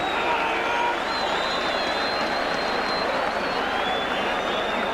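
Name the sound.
Halifax rugby crowd applauding a try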